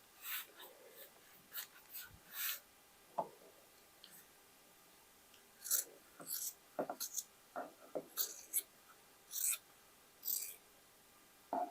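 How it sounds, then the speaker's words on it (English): Scissors snip through a man's shirt fabric being upcycled into a boho summer dress, giving a run of short, faint cuts and rustles in irregular bursts. "And I will cut it."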